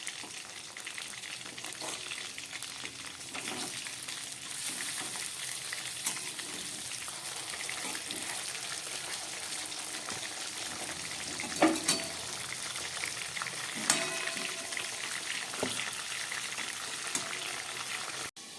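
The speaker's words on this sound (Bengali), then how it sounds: "ওদিকে আমার মাছগুলো ভাজা হচ্ছে" Ritha tengra fish fry in a pan with a soft, continuous sizzle and crackle, fairly quiet and steady throughout, with occasional small pops and no talking.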